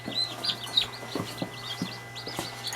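Young chicks freshly hatched from an incubator peep and cheep in quick, high, overlapping calls, with a steady low hum underneath throughout.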